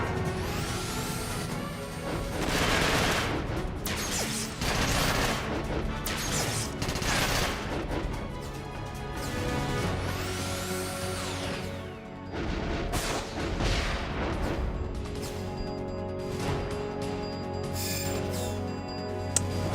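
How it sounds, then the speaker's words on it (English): Rockets firing in the mech combat game Front Mission 5, a series of loud whooshes, bangs and crashing impacts in bursts, alone without talking. "They're just firing rockets at their own guy."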